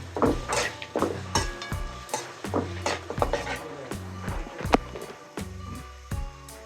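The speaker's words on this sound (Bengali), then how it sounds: "এগুলো দিয়ে একটু ভেজে নিই।" Taro stolons with coriander powder and salt frying over low heat in a pan, stirred with a utensil: repeated close clanks and scrapes against the metal over a faint sizzle.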